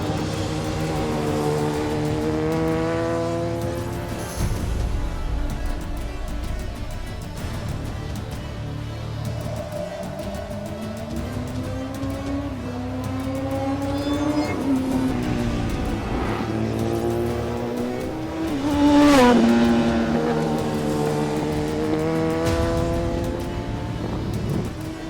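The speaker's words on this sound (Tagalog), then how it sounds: "sarap naman talaga pakinggan ng exhaust notes ng ZX-10R, especially with the aftermarket exhaust na ikinabit sa review unit namin" A Kawasaki ZX-10R sport bike fitted with an aftermarket exhaust revs and pulls through gears, its loud engine note rising and falling in repeated sweeps over about twenty-five seconds, with a sharp peak near the end.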